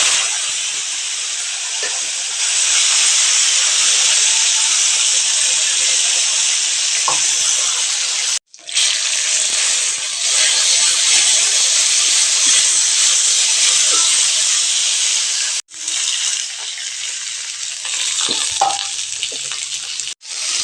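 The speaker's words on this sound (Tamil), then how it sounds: "வரமிளகாய் சேர்த்துக்கலாங்க." Dried red chillies and small shallots fry in hot oil in a pan, a loud continuous sizzle and hiss close by, with brief stirring breaks and someone speaking quietly now and then.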